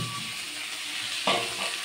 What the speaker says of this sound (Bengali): সব রকম মশলা দিয়ে এখন কষাচ্ছি